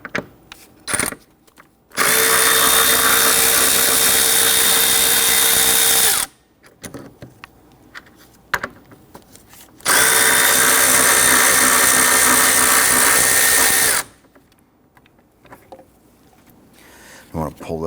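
Power tool loosening and removing two 10mm bolts holding the engine cooling fan unit on a 2017-2020 Hyundai Elantra 2.0L L4, with two loud sustained bursts of several seconds each separated by quieter handling noises.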